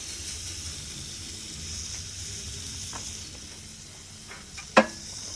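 Butterflied Australian lamb leg, about 3 to 4 centimetres thick, sears over a red gum wood fire on an iron grill, giving a steady soft sizzle with a sharp clack near the end; no one speaks.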